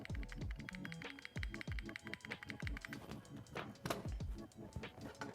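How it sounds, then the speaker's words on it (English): Rapid, repeated taps on a computer's delete key while a gaming PC boots into its BIOS, a steady run of close, crisp clicks with some louder strikes and faint background sound. "we're gonna spam the delete key on our keyboard to enter the BIOS"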